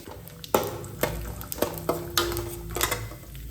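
Mustard seeds, cumin and peanuts hit hot oil in a frying pan, giving a low background sizzle broken by a series of sharp clinks and scrapes from stirring at irregular intervals, no talk.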